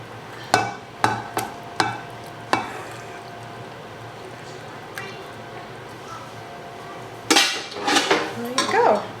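A spoon clanks and scrapes as chicken and bacon pasta bake is tipped from a pan into an oven dish: several sharp metallic clinks early on, a quieter stretch, then a busy burst of scraping and clatter at the end.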